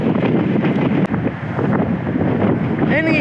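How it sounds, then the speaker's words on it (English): Strong stormy wind batters the microphone outdoors in a continuous loud roar with gusty swells, ending in a brief whistling flutter. "when it's really windy"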